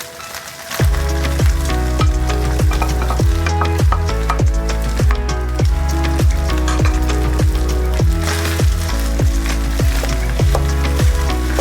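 Day-old rice stir-fried with corned beef in its oil, giving a steady, close sizzle that runs unbroken under rhythmic background music with a regular beat.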